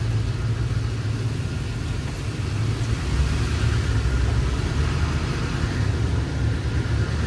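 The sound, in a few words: cars driving by on the road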